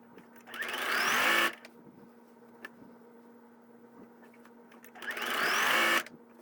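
Sewing machine stitching pieced quilt border block units together, two loud bursts of fast whirring stitching separated by a quiet pause with small handling clicks.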